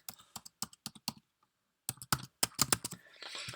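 Someone types a password on a computer keyboard in two short bursts of quick, crisp key clicks separated by a brief pause, close and alone without talking.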